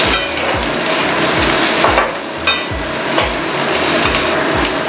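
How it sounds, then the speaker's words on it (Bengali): Spring onion greens and shredded cabbage are stirred in a frying pan, a steady sizzle with regular scraping sweeps about every half second, loud and close with no voices. "ভালো করে নেড়ে নিচ্ছি।"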